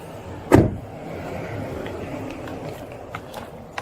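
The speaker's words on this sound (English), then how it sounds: "Let me get your door." A car door is opened by a police officer at a traffic stop, with a single loud clunk of the latch and handle followed by quiet outdoor street ambience.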